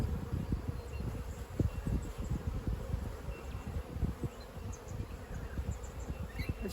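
A dense, steady buzz from many honeybees near the entrance of a beehive in an Australian apiary, with soft crackling and rustling from the hive.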